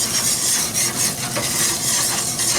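Oil sizzling steadily on a hot Pit Boss griddle, a dense continuous hiss close by with faint scraping and clinks mixed in, no voices.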